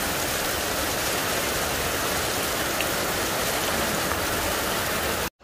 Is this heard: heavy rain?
yes